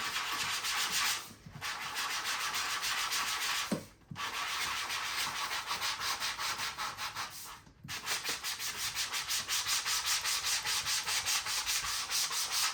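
A Cricut cutting mat is scrubbed clean by hand, making a continuous gritty rasping with a quick back-and-forth rhythm, broken by three brief pauses, close and fairly loud with no voices.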